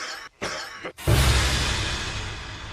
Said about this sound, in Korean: 내가 지금 기침 소리를 내었는가?